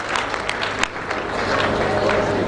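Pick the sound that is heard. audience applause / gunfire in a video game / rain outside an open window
audience applause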